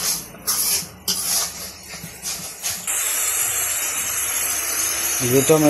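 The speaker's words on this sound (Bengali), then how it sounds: "তার মশলাটা ভালো করে কষিয়ে নেই, তারপরে সবজিগুলো দিয়ে দেবো।" Ginger and garlic spice paste sautéing in a pan in a Bangladeshi village kitchen: a few sharp hissing bursts, then a steady, fairly loud sizzle that carries on to the end.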